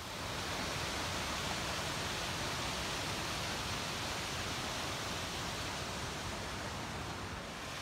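Fish Creek Falls in Steamboat Springs, a dense, steady roar of falling water heard from close by, loud and unbroken with no voices over it.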